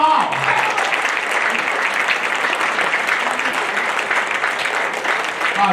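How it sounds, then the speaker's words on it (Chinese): Sustained applause from an audience at a military academy alumni association meeting, a dense, even clatter of clapping hands lasting the whole stretch. "再次鼓掌好不好？"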